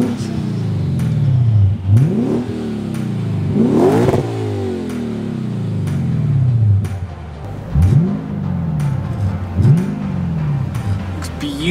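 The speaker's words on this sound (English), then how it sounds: "they upgraded the exhaust, and guys, this thing sounds absolutely gnarly" A Lexus RC F with an upgraded exhaust revs hard several times, pitch sweeping up and dropping back between blips, loud and close with a deep, rumbling exhaust note.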